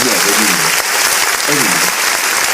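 An audience claps and cheers loudly throughout, a dense burst of applause with a voice calling out over it.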